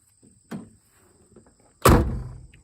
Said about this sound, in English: Hold the door handle while you close the door, and it locks.